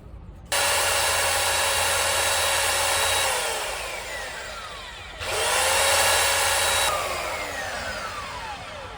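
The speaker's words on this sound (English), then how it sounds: "Basically use this for decking. Turn it upside down, you got yourself a, should I say, a belt sander like you do in the workshop." Deck sander flipped upside down and run as a bench belt sander in a workshop, a loud steady whine in two long bursts with a short dip between, each starting abruptly and then winding down.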